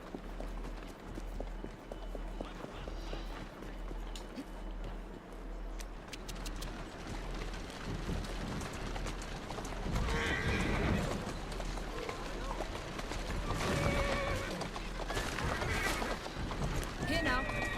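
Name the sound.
horse neighing and hooves, video game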